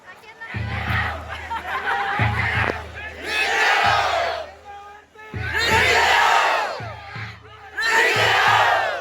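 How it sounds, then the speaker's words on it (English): A crowd at the opening ceremony of the Zeme Olympic games in Manipur lets out loud cheering and shouting in four separate bursts, with chatter and calls in the brief lulls between them. "Please make some noise for Zema Olympic! Make some noise"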